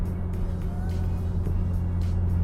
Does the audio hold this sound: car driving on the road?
yes